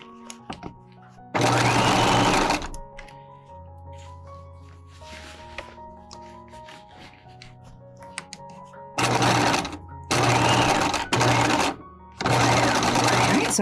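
A sewing machine stitches the sleeve of a bodice in loud, steady bursts: one long run early, then several close runs near the end, with quiet room sounds and handling between them.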